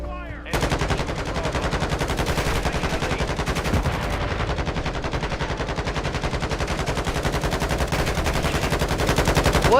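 Rapid automatic gunfire from a Call of Duty: Modern Warfare II Domination multiplayer match, a dense stream of close, loud shots running almost continuously with brief gaps, layered with other weapons.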